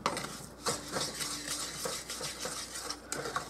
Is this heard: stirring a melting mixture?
yes